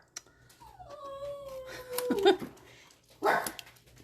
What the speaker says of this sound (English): He loves to bark at everything